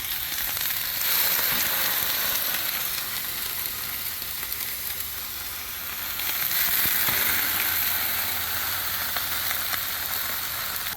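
Food frying on a gas Blackstone griddle, a loud, dense and continuous sizzle that swells slightly and holds steady throughout, with no voices.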